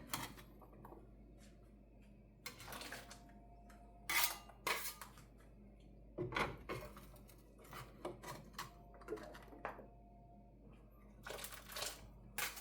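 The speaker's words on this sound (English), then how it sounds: "now what I'm going to do is I'm going to add the papas" Potato chunks go into a pot of hearty vegetable and meatball soup with a metal utensil, making scattered clinks and scrapes, several sharp knocks and clatters separated by quieter pauses, close and fairly loud.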